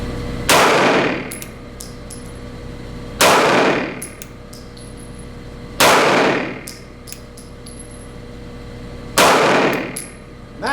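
Four loud, sharp 9mm pistol shots from a Smith & Wesson M&P 2.0 on an outdoor range at 7 yards, spaced about three seconds apart, each with a bright crack and a ringing tail.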